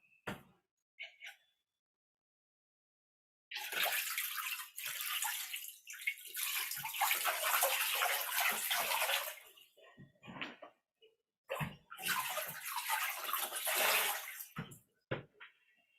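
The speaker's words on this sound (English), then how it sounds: "now take your water and wash your feet." Water splashing from a bucket as feet are washed during an ashram meditation session, coming in two long bursts of pouring and sloshing with a few brief drips and knocks between, close and fairly loud with no talk.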